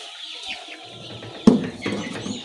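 Chicks and young chickens cluck and peep softly close by, scattered short calls with one sharper, louder squawk midway and busier clucking after it, in a quiet indoor pen.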